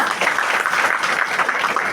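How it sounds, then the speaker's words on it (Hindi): Applause from an audience honouring a guest at a motivational talk, a dense, steady patter of many hands clapping throughout, fairly loud and close, with no speech over it. "मनीषा मैम के सम्मान में एक बार जोरदार तालियां।"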